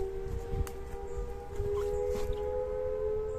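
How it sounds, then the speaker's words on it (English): A long, steady quarry blasting siren wail drones in the background, its sustained tones running under faint outdoor rumble and low noise. "The World War II siren you can hear in the background is the blasting siren for the quarries"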